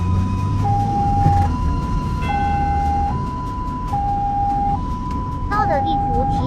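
Loud and near, an ambulance siren cycles its two alternating tones while the vehicle threads through heavy rush-hour traffic near a city expressway entrance, a spoken voice and engine rumble underneath.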